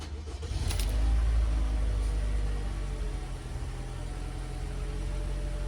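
A 2019-2023 Toyota RAV4 engine cranks and catches near the start, then settles into a steady, low idle that holds alone to the end.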